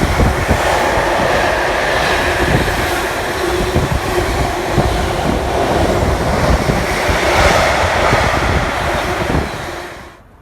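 A Class 66 freight locomotive thundering past at close to 75 mph on the West Coast Main Line, a loud, continuous rush of rumbling wheels and wagons that holds steady for about ten seconds before cutting off abruptly.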